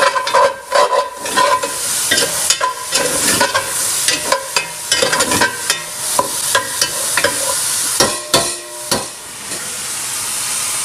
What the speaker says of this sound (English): we use a flat spoon where we can start scraping the bottom of the pot